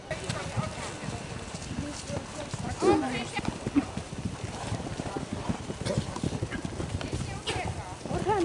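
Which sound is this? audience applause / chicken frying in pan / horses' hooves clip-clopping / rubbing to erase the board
horses' hooves clip-clopping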